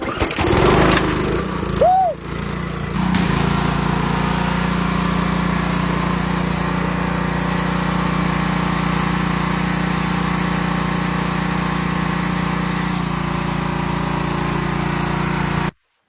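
A petrol pressure washer runs while washing a Honda TRX250 quad, giving a loud, steady engine drone with hissing spray that holds for about fifteen seconds before cutting off abruptly.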